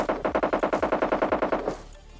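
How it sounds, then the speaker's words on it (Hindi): Video game gunfire from an apartment, a rapid evenly spaced automatic burst of about fifteen shots, fairly loud and slightly distant, ending abruptly with a short fading tail. "और तभी अपार्टमेंट से फायरिंग की आवाज आती है।"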